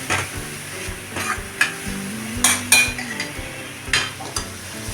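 Chopped bottle gourd sautéing in a pan, with steady frying sizzle under repeated scraping and clinking of a spoon or spatula against the metal as it is stirred, close and fairly loud, with no talking.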